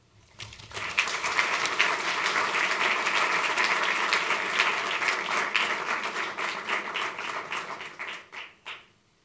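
An audience at an urban design award ceremony applauds to welcome speakers to the stage. The clapping is dense and sustained, then thins into scattered claps and fades out near the end.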